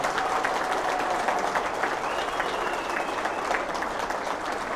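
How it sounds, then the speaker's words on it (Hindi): A hall audience applauds steadily to welcome guests at a motivational talk, a dense even roar of many hands held at a constant moderate level throughout, with no talking over it. "हम आपका जोरदार तालियों के साथ स्वागत करना चाहते हैं"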